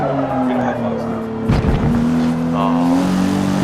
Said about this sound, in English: Porsche Boxster.